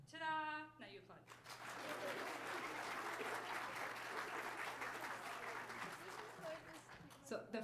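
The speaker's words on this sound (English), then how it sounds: "Now you applaud." Audience at an elementary school winter orchestra and jazz strings concert claps in a sustained burst of applause after a short spoken cue, with a voice resuming at the end.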